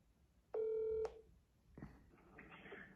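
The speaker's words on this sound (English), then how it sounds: "I'm gonna call my good friend Jesus and get his perspective on alcohol" A single telephone keypad tone rings out steadily for about half a second, loud and clear, followed after a pause by a muffled ringing-line or rustling sound.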